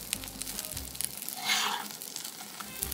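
Polish apple placki frying in a pan of oil give a steady close sizzle, with a brief louder burst of crackling in the middle and faint clatter around it.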